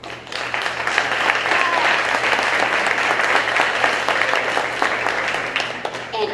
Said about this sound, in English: If you could stand up for a round of applause,